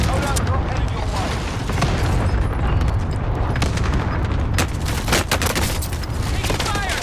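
Gunfire in the video game Warzone during a house fight crackles in dense rapid bursts over a loud, busy background, with players talking throughout.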